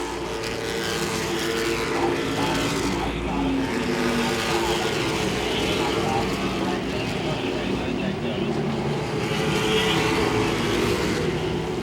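Late model race cars roar around Langley Speedway in a steady, layered engine drone, the cars held at a constant distance while a commentator talks over the noise throughout.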